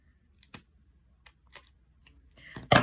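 Scissors snip through paper while a paper fish is cut out, giving a few sparse, close cuts followed by a louder, longer snip at the end.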